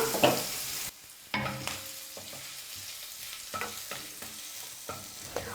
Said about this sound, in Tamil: இப்போ முதல்ல இஞ்சியும் பூண்டும் சேர்த்து லைட்டாக வதக்கிக்கலாம்.